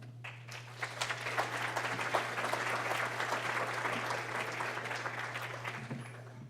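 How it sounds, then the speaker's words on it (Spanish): Dense, steady audience applause at an evening social-enterprise forum in Costa Rica, many hands clapping together over a low electrical hum and sustained for several seconds at moderate volume. "Un aplauso, por favor"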